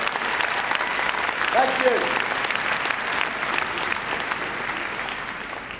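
Audience applause fills an arena at Crufts 2010 during a springer spaniel gundog display, a dense steady clatter of many hands throughout, with a brief spoken thanks over it.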